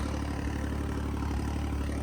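Tractor engine running at about 1600-1700 rpm, working with a rotavator, giving a steady loud mid-low drone with an even pulsing beat throughout and no talk.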